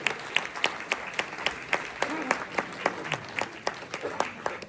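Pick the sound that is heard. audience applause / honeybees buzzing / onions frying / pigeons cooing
audience applause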